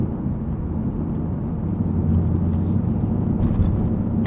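Car running with its switchable exhaust valve opened, a louder, deeper steady rumble with a few faint clicks and rattles over it, constant throughout.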